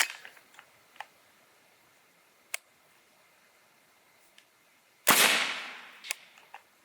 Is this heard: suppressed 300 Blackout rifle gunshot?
yes